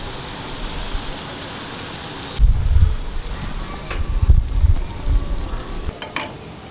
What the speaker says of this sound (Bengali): এবার তালের বড়াটা ভেজে নেব